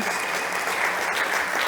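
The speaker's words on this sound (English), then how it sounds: "Good applause for all of them." Audience at a mobility startup competition stage applauds, a dense, steady burst of clapping filling the short moment without pause.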